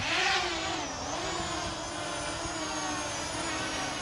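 An LYZRC L900 Pro GPS drone with brushless motors hovers nearby, its propellers making a steady, loud, high-pitched whine and buzz with slight pitch wavers throughout.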